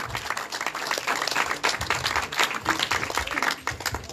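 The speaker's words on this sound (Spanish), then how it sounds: "Fuerte el aplauso, por favor" An outdoor public works event crowd in Chancay, Peru claps steadily and fairly close, a moderately dense round of applause with uneven individual hand claps throughout.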